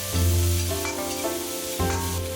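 Fermented black beans and bean paste stir-fried quickly in a wok with ginger and scallion, loud continuous hissing sizzle with swells as the spatula tosses them, close up and without speech.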